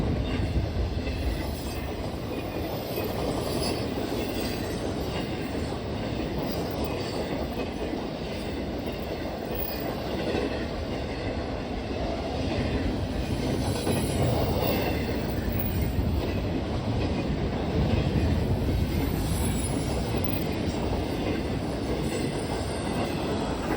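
A Norfolk Southern freight train with a CNJ heritage unit rolls past on the Cleveland Line, a steady loud rumble of wagons and wheels with faint squeals and clickety-clack running throughout, no voices.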